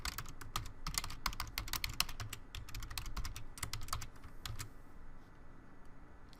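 A login email and password typed on a computer keyboard, rapid bursts of crisp close key clicks that slow and stop near the end, quiet and alone.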